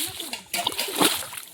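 Large fish released by hand into a pond in the Sundarbans, making a few quick splashes and sloshes close by, with people talking over them.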